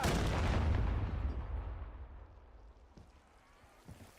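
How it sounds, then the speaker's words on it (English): In the Call of Duty: Black Ops 7 video game, a frag grenade goes off with a heavy, booming blast that rumbles and fades out over several seconds, with faint scattered pops trailing behind. "Frag throw."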